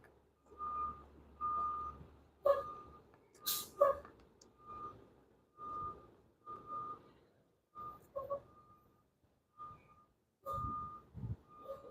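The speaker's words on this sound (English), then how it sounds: "There's a truck that's backing up. It's really loud." A truck's reversing beeps repeat steadily at a moderate distance, steady single tones with engine rumble beneath and occasional faint clatter.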